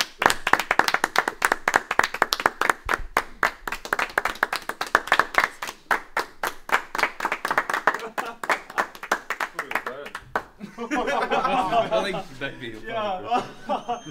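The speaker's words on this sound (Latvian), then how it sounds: "Aplaus" Applause in a studio audience, a dense burst of rapid clapping that thins out, then laughter and chuckling toward the end.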